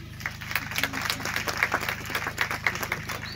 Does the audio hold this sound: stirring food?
no